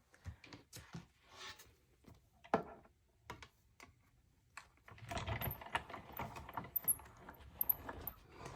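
A die-cutting machine feeding cutting plates and blue cardstock: a few scattered clicks and handling taps, then a steady, close mechanical grinding rumble as the plates roll through, with no voices.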